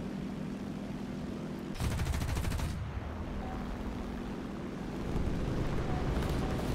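Aircraft machine gun fire from a La-7B-20 fighter in the War Thunder video game, a roughly one-second rapid burst over constant engine roar, with a second short burst near the end.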